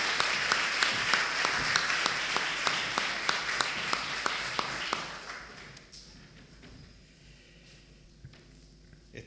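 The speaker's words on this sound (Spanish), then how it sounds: "Un aplauso." Audience applause at the 2016 academic year inauguration of Universidad Alberto Hurtado in Chile, a dense burst of clapping for about five seconds that then drops to a quiet hall with scattered faint sounds.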